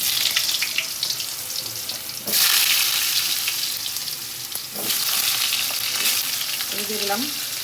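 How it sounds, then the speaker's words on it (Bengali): Potatoes sizzle loudly in hot oil with bay leaf and whole cumin, cooking for a jackfruit curry, a continuous close hiss that swells in two louder bursts as the pieces are stirred, with no talking. "তো আলুটা একটু ভাজা হোক"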